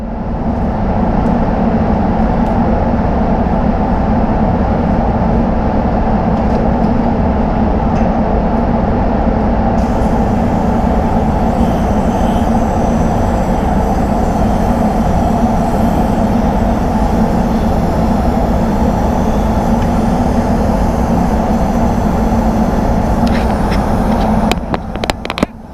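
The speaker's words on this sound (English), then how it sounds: "So that's the colour gun I've got here." A DeVilbiss GTI Pro spray gun sprays colour onto a Jeep bonnet, a loud, steady, close hiss of compressed air that runs continuously for about twenty-five seconds before cutting off.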